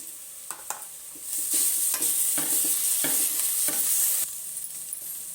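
Ginger garlic paste sizzles loudly in a hot pan while being stirred, a steady frying hiss broken by repeated scraping strokes of the spoon, close up with no talking.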